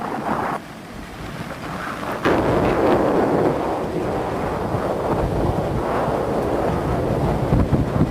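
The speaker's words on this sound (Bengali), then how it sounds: "ভোরবেলা এত সুন্দর হাওয়া" Sea breeze and waves at Digha beach at dawn: steady, loud wind rumble buffeting the microphone over a broad washing surf roar, continuous, with a sudden surge in strength partway through.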